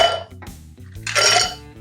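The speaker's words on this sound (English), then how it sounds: "fill the glass with ice cubes" Ice cubes dropped into a cocktail mixing glass already holding red vermouth, bitters and bourbon, making a few sharp, close, ringing clinks and clatters in quick succession.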